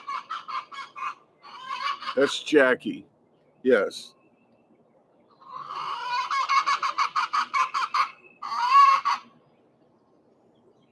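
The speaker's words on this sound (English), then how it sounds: "you will definitely hear chickens" Chickens cluck and squawk in bursts, close by, with a few short spoken words between the calls.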